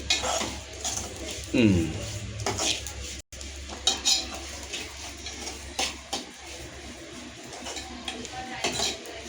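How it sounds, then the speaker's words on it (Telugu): Ingredients being lightly dry-roasted in a pan, with a spoon scraping and clinking against the metal in irregular close strokes, moderately quiet over faint background sound. "ఇలా పౌడరు దాన్ని చేసుకోవడానికి ముందు అలా లైట్గా వేయించాలి"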